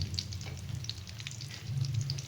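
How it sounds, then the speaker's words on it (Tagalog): Fish sizzles in hot oil in a frying pan, a steady close crackle with scattered pops and spatters throughout, no voices. "Nagluto ng isda. Pritong isda."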